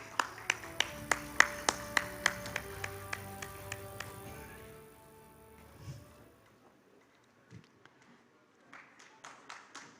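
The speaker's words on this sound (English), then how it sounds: "please put your hands together for Mr. Anand Torvi, Head Compensation and Benefits at Hindalco" Small conference audience at a health and wellness summit clapping for a speaker coming on stage, a steady series of distinct claps that fades after a few seconds, followed by faint shuffling and a few scattered claps.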